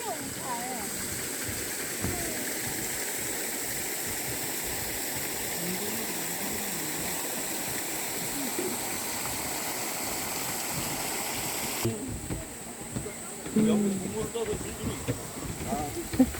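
Waterfall pouring into a lake at Pocheon Art Valley, a steady broadband rush with people chatting nearby and occasional footsteps and handling noises near the end.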